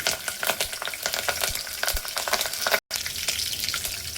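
Cumin and curry leaves sizzle and crackle in hot oil for dhaba-style sev bhaji, a dense, close, steady frying hiss broken by a brief gap.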